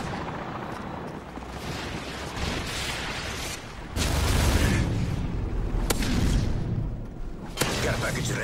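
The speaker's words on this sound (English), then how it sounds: "Friendly Predator missile inbound." Explosions from a Predator missile strike in a military shooter game, a dense rumbling barrage with sharp booms landing around four, six and seven and a half seconds, loud and continuous throughout with game voice chatter mixed in.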